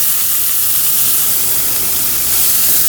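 Minced pork being stir-fried with larb chili paste in a hot pan gives a loud, close, continuous sizzling hiss that holds steady throughout, with no voices over it.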